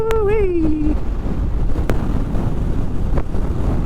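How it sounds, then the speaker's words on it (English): Steady, loud wind buffeting a microphone while riding a Honda ADV 150 scooter, a low roaring rumble throughout with a brief tonal whine at the start. "It's always damn windy. I don't like riding in the wind."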